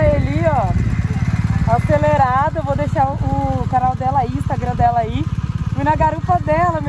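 A BMW Sport Touring scooter's engine drones in a steady low rumble while riding, continuous and close, with people talking over it throughout.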